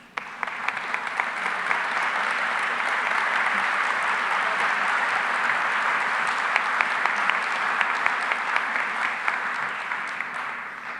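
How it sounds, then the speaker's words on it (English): A large audience at a leadership foundation's annual gala gives a long, full round of applause for an honoree who stands, a dense, sustained roar of clapping that swells and holds for about eleven seconds. "I would like you to stand so we could all give you a big round of applause"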